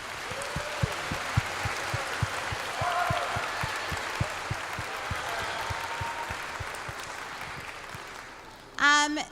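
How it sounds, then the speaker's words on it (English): Applause from parents and guests for a 5th grade class at a school spring concert, a steady crowd clapping with some distinct loud claps up front, fading toward the end as a voice briefly speaks. "how about a round of applause for our 5th grade class?"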